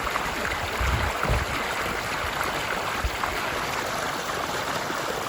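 Water rushing steadily out of a drained cistern, a continuous broadband wash with a few louder surges, steady and close throughout.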